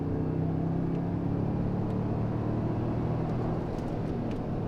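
A V6 Toyota Tundra fitted with a Magnaflow exhaust cruises along, heard from inside the cab as a steady low engine and exhaust drone with road rumble, continuous and fairly loud, with no talk.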